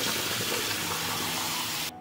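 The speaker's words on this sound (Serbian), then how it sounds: "I procedit ću ih pod mazom hladne vode da se ne bi zalepile." Cooked nokedli dumplings drained in a sink under cold running tap water, a close, steady splashing gush that ends abruptly near the finish.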